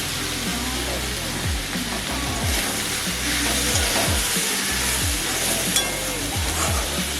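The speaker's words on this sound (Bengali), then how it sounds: "এবার আমি ভালো করে আলুটা দিয়ে কষিয়ে নেব।" Potatoes for ghugni sizzle steadily in a hot pan while being stirred and sautéed, a continuous close frying hiss broken by repeated scraping strokes of the spoon.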